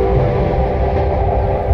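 A local train heading toward Sealdah rumbles along the rails, a loud, steady low roar with faint rhythmic clatter, heard from inside the carriage.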